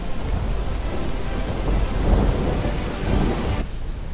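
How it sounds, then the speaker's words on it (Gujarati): Heavy rain lashes villages around Kadodara in Palsana, a dense, loud roar of downpour with gusting swells and a deep thunder-like rumble in the middle, continuous and unaccompanied by voices. "પલસાણા પંથકના કડોદરા સહિતના ગામોમાં ભારે વરસાદ પડી રહ્યો છે"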